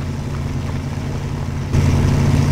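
A truck engine in a truck-driving video game drones steadily at a low pitch, then jumps abruptly louder and rougher partway through as the revs rise.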